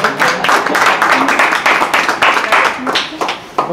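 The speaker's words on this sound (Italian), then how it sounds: "ci facciamo un applauso da soli" A small group clapping in quick, uneven bursts, with voices mixed in underneath.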